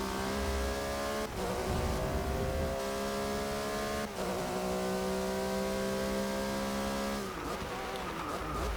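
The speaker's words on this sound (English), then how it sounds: "Oh, there goes the Corvette." A Corvette race car in the Forza 6 racing game roars past, its engine note held loud and steady with pitch shifts as it sweeps by several times, and gear changes break up the sustained whine.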